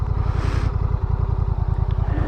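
Motorcycle engine idling close by with a steady rapid pulsing throb, throttle added so the note rises slightly, no talk.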